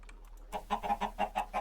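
Minecraft chickens cluck in a quick series of six or seven short, bright calls after a near-silent start, clear and close with no talking.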